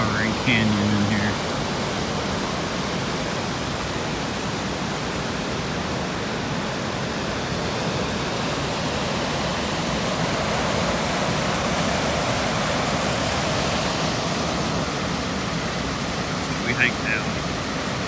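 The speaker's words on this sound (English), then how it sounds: "waterfall" A waterfall in a towering, mossy old-growth canyon ravine at Plympton Creek gives a steady, loud rushing roar that fills the whole stretch, with brief faint voices near the start and end.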